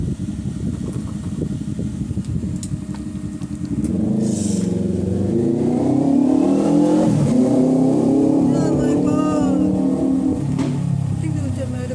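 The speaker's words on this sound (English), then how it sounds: "I think it was a motorbike." A motorbike engine roars close by and rises in pitch as it passes, loud and steady, with a person briefly exclaiming over it.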